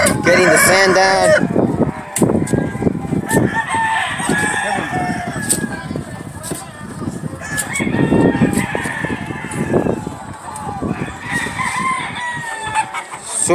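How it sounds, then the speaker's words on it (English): Gamefowl roosters crow repeatedly while hens cluck throughout, a busy, loud chorus of poultry in pens with some voices mixed in. "The roosters"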